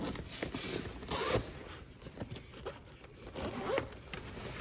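A Mystery Ranch Mission Rover 30 backpack zipper being pulled open in short scratchy bursts, with faint handling and rustling noises around it.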